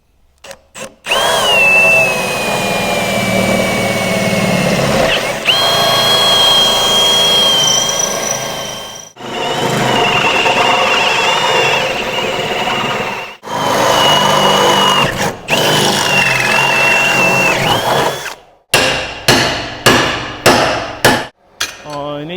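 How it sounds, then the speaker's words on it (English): A power drill runs in several long, loud bursts separated by brief pauses, ending in a string of short rapid pulses. "Let's do some drilling."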